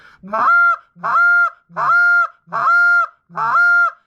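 A short reed call imitates a Canada goose comeback call: five close, evenly spaced honks, each rising sharply and then holding a bright, sustained tone, heard alone.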